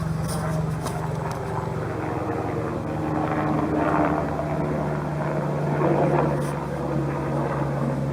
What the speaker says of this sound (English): there's a chopper flying through.